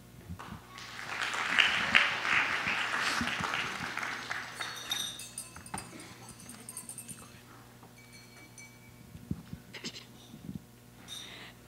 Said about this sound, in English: if you want to give a round of applause and encouragement to the bride and groom